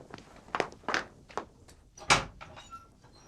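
A door being opened in a Turkish home drama, heard as a series of knocks, thuds and shuffling footsteps, then a sharper bang of the door, close and moderately loud with no talk.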